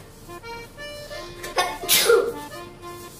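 A single sharp sneeze bursts out mid-clip in a kitchen where dough for fishing bait is being kneaded on a floured work table, loud and close against a quiet room.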